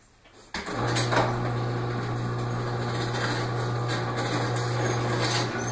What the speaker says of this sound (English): Oh, I'm gonna open the garage door.